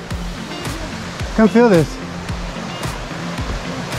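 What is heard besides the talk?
water flowing out of a cave into a stream at Virgin Falls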